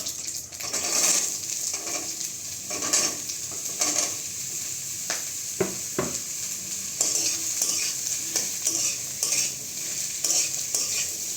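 Tender bottle gourd sizzles in hot oil with slit green chillies, while a spoon stirs it in regular scraping strokes over a steady frying hiss.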